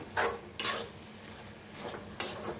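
A spoon taps and scrapes a pan three times while a spring onion greens vegetable dish is mixed, with quiet gaps between the sharp clinks.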